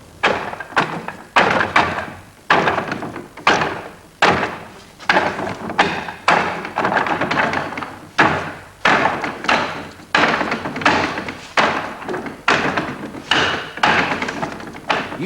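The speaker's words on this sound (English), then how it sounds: "Using the dummy man allows all the techniques to be used strongly." Strikes on a Wing Chun wooden training dummy, a continuous series of loud, close wooden thuds and knocks in a quick, uneven rhythm with no talk.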